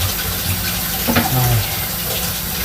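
Garlic is rinsed under a running kitchen tap while dill pickle soup is being prepared, a steady, loud gush of water flowing without pause and no voices.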